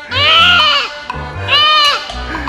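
Goat on a farm bleating loudly and close, two drawn-out cries in quick succession.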